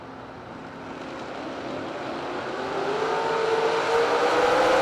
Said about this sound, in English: Mosier with the roadster pulls up alongside the Nova and turns it into a whole shot win